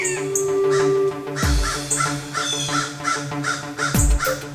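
A gang of crows caws repeatedly in a steady series of harsh calls while mobbing owls, loud and fairly close over a droning background.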